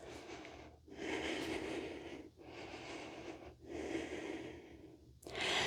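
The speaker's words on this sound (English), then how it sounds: "Keep breathing deeply in and out of your nose." Deep breathing in and out through the nose during a yoga conditioning session, four slow, steady airy breaths with brief pauses between them, close and fairly loud.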